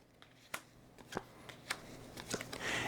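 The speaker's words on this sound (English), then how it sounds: "you're going to shuffle these up, and you're going to place these out" Cards from the Alien Frontiers board game are shuffled quietly up close, a series of soft flicking snaps and riffles at irregular intervals, ending in a brief burst of rustling.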